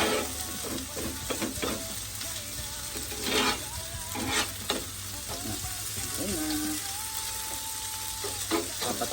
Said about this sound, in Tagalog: Dumidikit-dikit na sa sizzling plate.